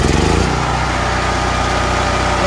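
A Firman portable generator that has trouble starting sputters into a loud, steady, close-up engine drone that runs without a break after a brief rough start.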